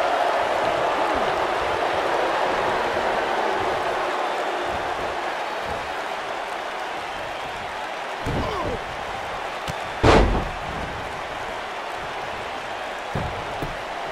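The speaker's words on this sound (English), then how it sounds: "And he slams him down." In the WWE 2K19 video game, Finn Balor slams Andrade Cien Almas down with a single sharp thud about two-thirds of the way through, heard over steady arena crowd noise, with lighter impacts before and after.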